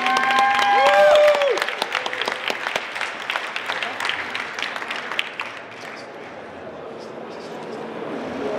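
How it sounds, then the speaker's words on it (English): A conference audience at KUSHCon in Denver, Colorado bursts into loud, sustained applause with some cheering after a speaker's introduction, then slowly fades over several seconds. "let's give a big round of applause and bring up Cheryl Shuman"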